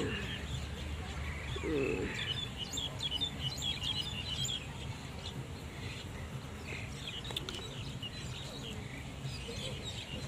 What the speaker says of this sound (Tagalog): Uy, may ibon.